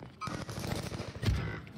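A quick burst of gunfire-like shots, sharp and punchy against a busy background, with no talking.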